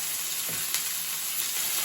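Chicken breast sizzles in a pan during one-pan camp cooking, with a constant bright crackle and hiss, unbroken and close, with a brief soft knock near the start.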